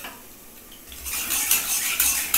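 Oil being spread around a pan to heat it, beginning quietly and then turning into a louder metallic scraping and hiss as a utensil moves across the pan, with no talking.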